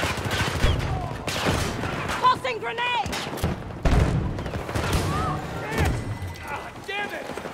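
Battlefield 2042 combat with a grenade blast among bursts of gunfire, loud and busy, with voices talking and shouting over the chaotic in-game fighting.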